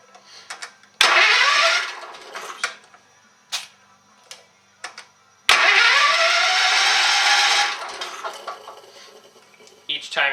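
A Kohler K321 engine in a Case 444 tractor cranks during a compression test: two loud, churning starter bursts, the second longer, with scattered metallic clicks and taps between them.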